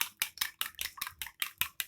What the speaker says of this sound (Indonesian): Kita kocok lepas sebentar, kita kocok.